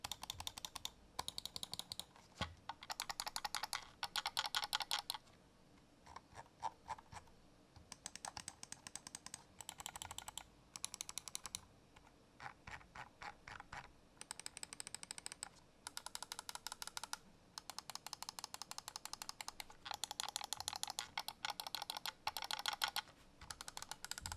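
Rapid bursts of crisp plastic clicking from the buttons of a Xenics Titan G8K wireless gaming mouse, pressed in quick runs separated by short pauses, close and dry.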